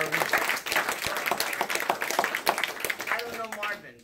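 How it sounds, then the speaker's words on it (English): An audience applauding for a man called up to the front, a dense burst of clapping that holds steady and then tapers off, with some voices mixed in. "Everybody give Marvin a round of applause."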